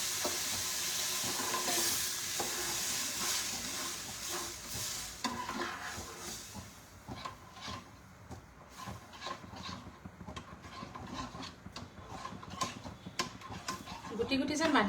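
Milk is slowly stirred into a fried mixture in a pan, with a spoon scraping and stirring under a soft sizzle, brief clinks of cookware, and a voice talking over parts of it.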